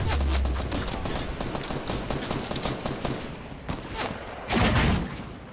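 Fortnite gunfire during a match: dense, rapid bursts of shots crackle continuously and loudly, with a heavier burst toward the end.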